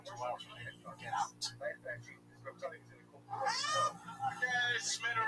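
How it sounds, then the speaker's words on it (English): A cat meow sound effect plays during a live IRL stream, several short meows and a drawn-out caterwaul mixed in with people talking. "he nailed the wave as the cat sound played"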